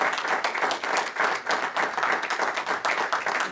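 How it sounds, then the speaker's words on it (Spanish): Sustained, vigorous applause from a church congregation, a dense wash of clapping that continues evenly throughout. "Dele fuerte el aplauso."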